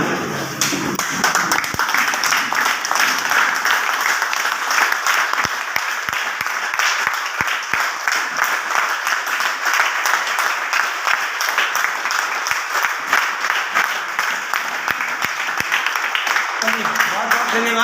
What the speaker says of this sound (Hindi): एक बार आप खड़े होकर के जोरदार तालियां